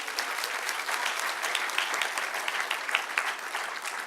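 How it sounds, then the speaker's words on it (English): Conference audience at a hotel-owners' education session giving a speaker a round of applause, sustained dense clapping from a full room at an even level throughout. "please give Vanessa a big round of applause"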